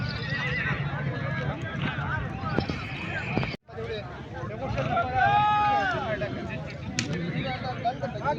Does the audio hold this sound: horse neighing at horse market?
yes